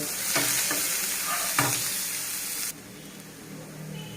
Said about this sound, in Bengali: আমি এখন পেঁয়াজ, রসুন দিয়ে দিলাম শাক তেলে দেওয়ার জন্য। একটু লাল লাল করে ভেজে নেব